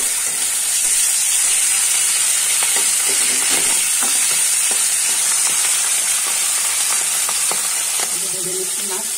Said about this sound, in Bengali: ভেজে নিচ্ছি মাছ।